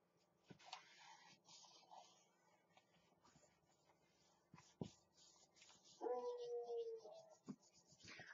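A dog whimpers and gives a drawn-out howl, fairly faint and distant, with a few short barks against a quiet background.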